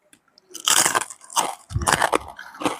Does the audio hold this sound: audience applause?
no